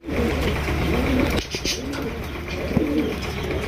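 Pigeons coo repeatedly at close range in a loft where a pair is busy feeding their squab, low rolling calls recurring over steady background noise.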